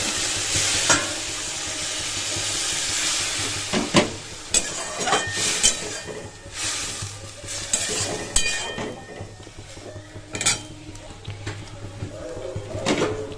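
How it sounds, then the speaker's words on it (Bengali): Leafy greens fry in a pan with a steady broadband sizzle, punctuated by repeated clanks and scrapes of a utensil stirring against the pan, all fairly close and loud, with no speech. "এই দেখো বন্ধুরা শাকটা দিয়ে আমি একটু ভেজে নেব"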